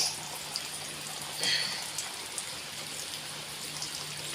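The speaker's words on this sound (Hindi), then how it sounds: "जोर वर्षा" Heavy rain from Cyclone Remal in Balasore, a steady, dense hiss of downpour that fills the whole clip, with a brief louder gust-like swell midway and no talking.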